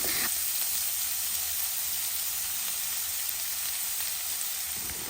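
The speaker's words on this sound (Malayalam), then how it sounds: "രണ്ട് മീഡിയം വലുപ്പത്തിലുള്ള സബോള ചെറുതായി ചോപ്പ് ചെയ്തത് ചേർത്ത് കൊടുക്കാം" Two finely chopped medium onions fry in hot oil in a pan for vermicelli upma, producing a loud, dense sizzle that holds steady throughout with no pauses and no speech.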